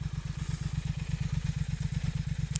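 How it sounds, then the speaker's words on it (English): A 2019 Triumph Speed Twin fitted with Vance and Hines exhausts idles nearby with a deep, throbbing, evenly pulsing exhaust note and no talk. "But the Vance and Hines exhausts certainly make a huge difference to the sound."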